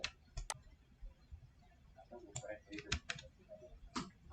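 A computer mouse and keyboard click while someone edits in Photoshop, giving scattered quiet, sharp clicks and key taps with a few louder presses and low background noise.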